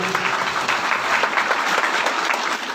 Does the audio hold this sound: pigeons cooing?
no